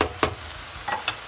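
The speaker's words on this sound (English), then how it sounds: "I'll add the scrambled eggs in, mix it together, and make the scrambled eggs slightly smaller." Scrambled eggs and chives sizzle in a frying pan while being mixed, with a low steady frying hiss punctuated by four quick spatula scrapes and taps.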